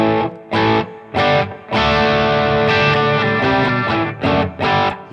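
Distorted electric guitar chords and riffs played through a Line 6 HX Effects processor with reverb, two guitars running into its returns, loud choppy stabs giving way to a sustained ringing passage with no talking.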